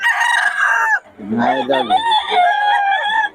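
Roosters at a chicken market crow loudly and close, one long call breaking off and another rising straight after, with someone briefly speaking beneath them.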